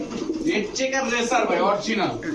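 Racing pigeons, including original red checker racers, coo in soft repeated throaty calls close by, with someone talking over them.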